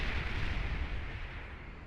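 A missile lands and explodes in the real-time strategy game Beyond All Reason, a deep rumbling blast that fades slowly with no voices over it.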